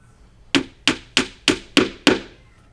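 Six evenly spaced hammer blows on a house project, sharp and close, each strike ringing out briefly before the next at a steady rhythm.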